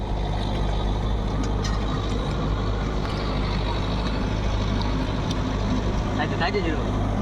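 A vehicle engine runs steadily, giving a constant low droning hum at moderate level with no change in pace, accompanied by faint background noise.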